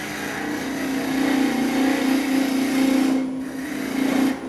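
A wooden goblet spins on a lathe while a 1/2 inch spindle gouge cuts it, giving a steady, fairly loud droning whine with a rough scraping edge that swells and eases, and no voices.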